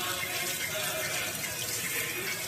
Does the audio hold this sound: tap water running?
yes